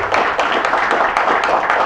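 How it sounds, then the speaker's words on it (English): Conference audience applause, a steady dense patter of many hands clapping at once, sustained and even throughout, fairly loud and close with no one speaking over it. "I think a round of applause is warranted"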